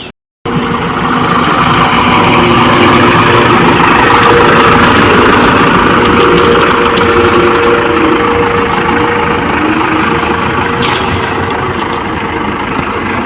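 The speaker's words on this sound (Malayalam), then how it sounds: "ഇത് കോൺക്രീറ്റ് മിക്സിങ് ചെയ്ത വണ്ടിയാണ്." A concrete mixer truck's loud, steady diesel engine idles close by at NH 66 Kannur Bypass construction, with a constant low rumble and rattle that barely changes throughout.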